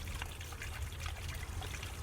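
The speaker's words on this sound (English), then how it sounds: "So I just wanted to show you the spillway, show you how that's working." Water trickling down the rock spillway of a newly built garden pond waterfall, a steady, soft splashing and gurgling flow heard alone, close by and without voices.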